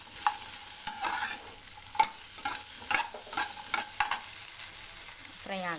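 Okra fries in a little oil, a steady sizzle with frequent clattering stirs of a spoon against the pan, close and moderately loud with no voices.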